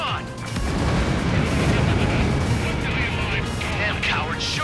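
Long-range enemy artillery fire in the Ace Combat 7 air combat game, sounding as a dense, continuous wash of booming blasts and rumble with voices talking over the noise.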